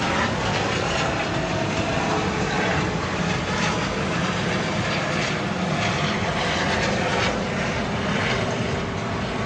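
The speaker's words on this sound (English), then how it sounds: "I've seen that helicopter regularly." A helicopter drones overhead in a steady, loud, unbroken roar of engine and rotor noise that holds at the same level throughout, with no voices.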